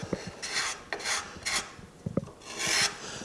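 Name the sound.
sandpaper sanding carved wood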